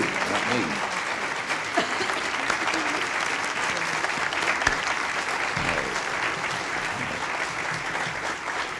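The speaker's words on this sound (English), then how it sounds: "That applause is for you, not me." Sustained, dense applause from a large crowd greeting the President and Mother Teresa at the Medal of Freedom presentation, an even wash of clapping with a brief voice briefly surfacing over it.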